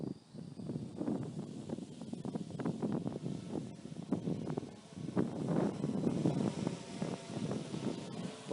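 Gusty outdoor wind buffets the microphone in a steady low rumble with surging peaks, continuous throughout at a fairly loud level, with no one speaking.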